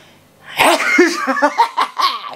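One loud, close sneeze is followed by a quick string of giggly, breathy bursts, heard alone without speech.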